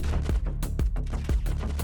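Several rapid gunshots from the mobile game Ukraine Mobile GTA crack out in quick bursts, sharp and close, with no talking.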